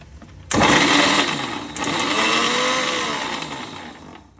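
A kitchen blender grinds crumbled bread into fine powder, starting abruptly with a loud whirring roar that briefly dips and then runs steadily, laboring under the heavy load, with no voices.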